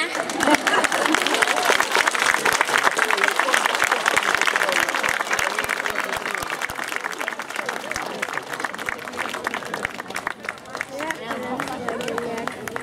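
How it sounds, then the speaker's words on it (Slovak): Sustained applause from an audience at a kindergarten's 40th anniversary celebration in Bardejov, many hands clapping in a dense, even roar for over twelve seconds, with crowd chatter underneath. "Tak toto si zaslúži ešte jeden potlesk."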